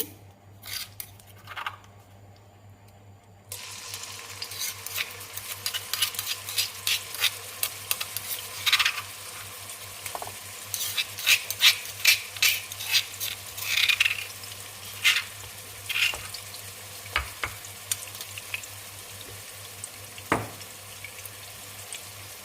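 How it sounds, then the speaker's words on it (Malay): Oil sizzles and crackles steadily as a pounded spice paste is stirred and fried in oil left from frying chicken, with scraping clicks from a utensil against the pan; a low hum runs underneath. "Kita guna minyak gorengan ayam tadi dan kita panaskan. Kemudian kita tumis bahan-bahan yang kita tumbuk tadi"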